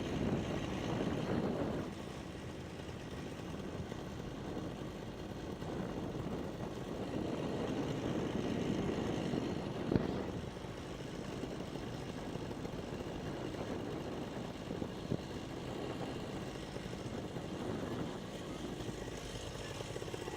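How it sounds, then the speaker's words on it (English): A powered paraglider's engine idles low during a power-off spot landing, a steady faint propeller drone mixed with wind buffeting the microphone, continuing throughout with only slight swells. "get it idled down so that we're not using any power"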